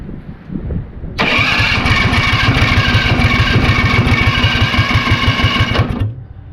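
A go-kart engine fires up after a moment of quiet handling, then runs at a loud, close, steady idle with a rapid pulsing beat for about five seconds before cutting off.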